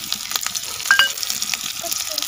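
Cumin seeds and onion fry in hot oil in a village kitchen, giving a soft continuous sizzle with small crackles and pops, fairly close and moderately quiet.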